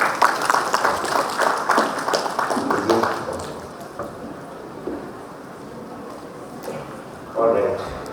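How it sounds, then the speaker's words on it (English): Clapping from a conference audience welcoming a CEO to the stage fills the opening seconds as a dense patter of many hands, then thins out and fades. A quieter murmur of room noise follows, with a brief rise near the end. "give him a round of applause."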